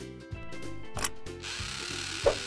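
An electric drill runs with a steady, loud mechanical whine that is broken by brief bursts and short grinding bumps. It sounds close to the listener, and no one speaks.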